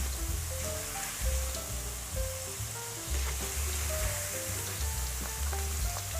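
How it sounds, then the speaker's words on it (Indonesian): Hot oil sizzles steadily as tempeh fries, a continuous crackling hiss with soft music playing underneath. "Goreng dalam minyak panas sampai warnanya berubah kecoklatan dan bagian luarnya jadi lebih garing"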